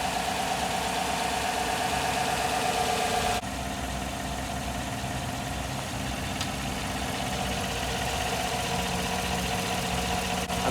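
A 2014 Chevrolet Silverado engine being fired up after a temperature-reading repair, then settling into a steady, close, continuous idle with a faint mechanical tick and no voices.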